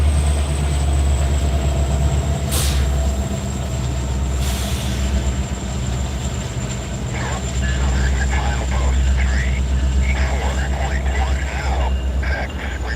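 Outbound Delaware & Hudson freight train rolling past at Coffey's Cliff, a continuous loud low rumble with clanking wheels and brief squeals, people talking over it.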